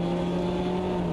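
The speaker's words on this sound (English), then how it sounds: "Blipping on the downshift now." Throttle blip from a DTM race car as the driver downshifts at Mugello in Automobilista 2, a steady engine drone with strong harmonic tones held throughout the short moment, loud and close with no talk over it.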